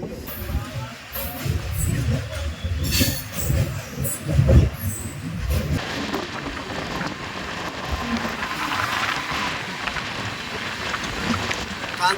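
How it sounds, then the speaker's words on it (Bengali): The Uttarbanga Express pulls out of Sealdah railway station with a continuous rumble and clatter of wheels and carriages. Occasional squeals and hiss ride over it, and faint background voices come and go. "আমরা এই ট্রেনে জার্নি করব সময় হচ্ছে সাতটা বেজে তেতাল্লিশ মিনিট আমরা বেরিয়ে পড়েছি শিয়ালদহ রেল স্টেশন থেকে"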